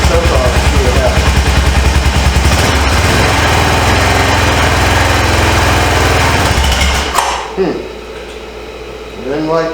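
Engine of an abandoned 2005 Honda Rincon 650 ATV with carburetor trouble, choke off, runs loud and close with a steady rough idle, then abruptly falters and cuts out after about seven seconds, leaving near silence.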